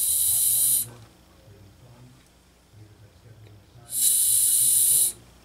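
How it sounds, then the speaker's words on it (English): Air hisses sharply through a carburetor inlet in two strong bursts, about a second each, separated by a quiet gap with faint low mechanical rumble. "Hear that amount of airflow?"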